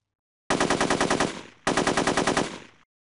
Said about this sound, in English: Press firing triggers to fire the guns.